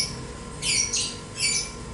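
A female lovebird in heat lets out three sharp, piercing squawks in quick succession, loud and close, with quiet pauses between them.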